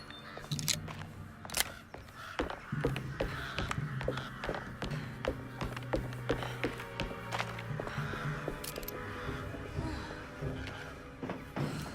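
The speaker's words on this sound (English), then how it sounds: "Fuck off, crows. Loud as shit." Repeated harsh crow caws ring out in Alone in the Dark, a video game, spaced unevenly across a busy ambient scene with sharp clicking knocks mixed in.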